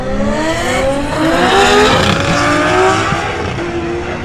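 High-power cars, including big-power GDRs, accelerate hard side by side in a roll race at the Chrome NZ car show, with loud, sustained engine roar and rising revs climbing through gear changes, close and continuous.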